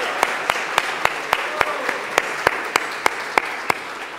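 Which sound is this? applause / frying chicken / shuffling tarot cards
applause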